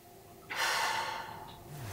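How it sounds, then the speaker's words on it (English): A single deep breath is drawn in sharply through the nose, then released out through the mouth, close and clear in a quiet space. "just taking a big deep breath, breathing in through the nose and out through the mouth."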